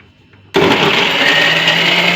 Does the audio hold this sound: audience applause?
no